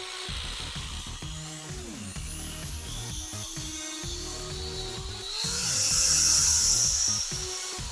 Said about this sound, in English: this powerful Black & Decker 7-amp electric drill